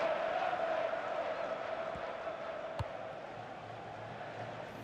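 Stadium crowd noise from the FIFA 15 video game forms a steady, faint, distant murmur and hum of a football crowd, with a couple of soft thuds, slowly fading toward silence.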